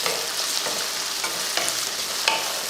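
Mixed vegetables, onion and peas sauté in a pan with a continuous close sizzle and soft crackles, plus a few faint scrapes of stirring.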